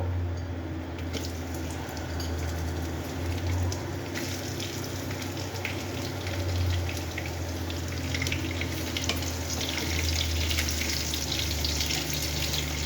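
Onions frying in hot oil with cardamom, cinnamon and bay leaf, a steady close sizzle with faint crackles and light clatter, no voices.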